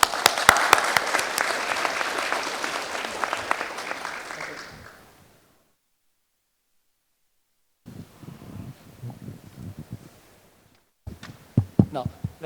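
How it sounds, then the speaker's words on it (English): An audience at a panel discussion on the renewable energy transition claps in a dense burst that fades out after a few seconds. After a silent gap, scattered louder claps and room noise follow. "please help me welcome the distinguished panel with a round of applause"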